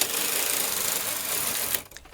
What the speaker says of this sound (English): Turn the change knob to KC and knit 1 row.